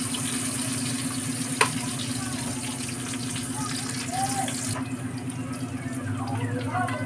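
Garlic and onion sizzle in hot oil in a pan for pancit, a steady crackling fry with a brief clatter near the start and a hiss that eases later on.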